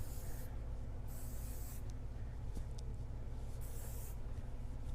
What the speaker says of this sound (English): Then you just need a little teeny bit of finishing spray to hold.